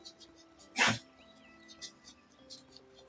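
A pet dog gives one short, sharp snort or sneeze-like sound up close, followed by faint snuffling and small movement noises in a quiet room.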